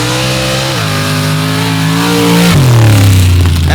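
A 1970s Chevrolet drag car with a 363 engine roars down the strip on a humid evening, loud and close, its pitch climbing steadily before dropping sharply at a gear change and climbing again.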